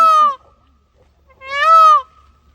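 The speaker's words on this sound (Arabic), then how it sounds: "أول مرّة أسمع صوته، اسمعوا صوته كده معايا" A white peacock in Germany gives two loud, nasal honking calls close by. The calls are separated by about a second of near silence, and nothing else is heard.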